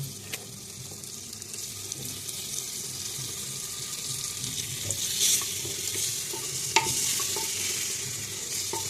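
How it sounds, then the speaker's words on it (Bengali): Beef with spices sizzles and is stirred in a handi, with a steady low frying hiss, occasional scraping clinks of the spoon, and a few sharper knocks near the end. "এই মাংসটা এবার দিয়ে দিব দিয়ে ভালো করে কষাবো"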